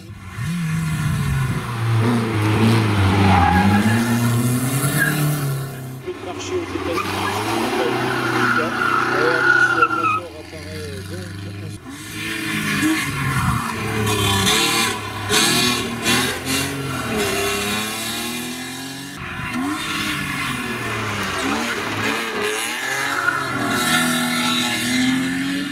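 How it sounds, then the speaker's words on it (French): Three BMW cars drifting at a historic hill climb event, engines revving and wavering in long loud bursts with tire noise, close by, mixed with crowd or commentary voices over the whole stretch. "Petit tour chez nos amis du Drift avec 3 BMW."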